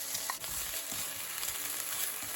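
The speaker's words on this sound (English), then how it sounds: "To the onions, I'm going to add some baby plum tomatoes." Onions and baby plum tomatoes sauté in a pan, giving a steady, even sizzle with a few light stirring clicks, close and constant throughout with no voices.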